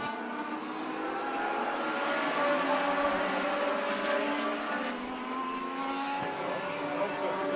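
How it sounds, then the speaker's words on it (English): Race cars roar steadily around the oval at Stockton 99 Speedway, a continuous layered engine drone at moderate distance with no break in the sound. "Fast lap of the race going to the number 2 car of Chad Nascimento."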